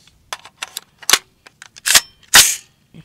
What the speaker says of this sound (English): here's the first shot with the lightweight upper.